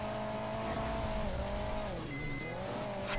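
A car in the mobile racing game Hill Climb Racing 2 drives with a steady engine drone that dips and rises in pitch, with faint tire squeal and a brief high tone near the end.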